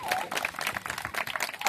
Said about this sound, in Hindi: यहाँ पहुँचे हमारे राकेश भाई के लिए भी एक ज़बरदस्त तालियों से